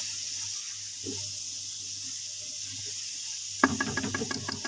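Water poured into a pan of chicken kofta cooking in ghee with cinnamon and black cardamom: a quiet stretch, then a sudden close pour with splashing and bubbling in the last second.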